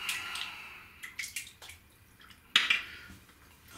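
A shaving brush with a SimFix handle and 24mm AP Shave Company Synbad knot drops into a basin of water, giving a sharp splash midway, surrounded by light scattered drips and clinks in a quiet room.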